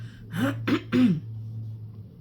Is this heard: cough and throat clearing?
yes